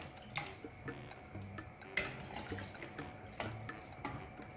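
A spoon scrapes and clinks around a pot of shrimp tom yum soup, a run of light, irregular knocks and scrapes against a soft simmering bed, close and moderately quiet with no voices.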